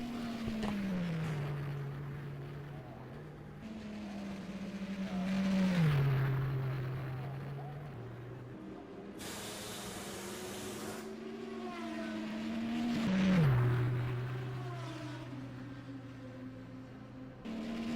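Race car engines from the rFactor simulation at Le Mans, a loud steady drone that twice rises and drops in pitch as a car slows and shifts down, with a hiss of other traffic around it.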